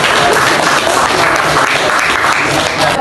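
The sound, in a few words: applause for the group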